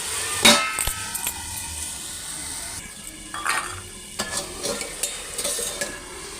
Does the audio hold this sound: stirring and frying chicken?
yes